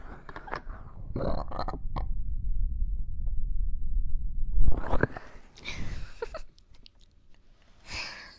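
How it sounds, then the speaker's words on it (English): A long, low rumbling burp rolls out for several seconds, followed by a few faint breaths and mouth noises. "I need a burp."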